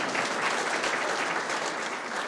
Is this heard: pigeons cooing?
no